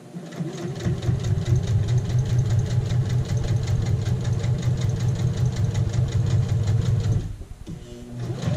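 A sewing machine runs a continuous edge stitch along an apron, a fast rapid-fire needle clatter that holds steady for several seconds, stops briefly as the needle pivots, then resumes, close and fairly loud.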